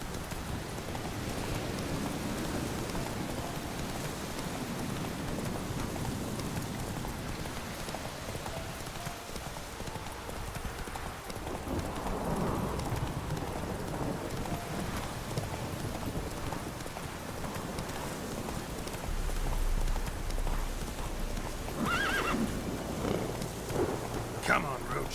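Geralt's horse Roach in The Witcher 3 gallops with steady, fast hoofbeats that run throughout, set against a constant wash of rain and thunderstorm ambience.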